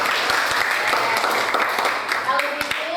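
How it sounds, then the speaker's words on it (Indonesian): Classroom applause at the end of a school lesson, steady dense clapping from a group of students that holds throughout, with voices talking and calling out over it. "Tepuk tangan untuk kita semua hari ini."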